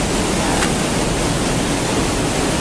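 Bheemeshwara waterfall roars as a loud, unbroken wash of rushing water heard close up, steady throughout with no voices.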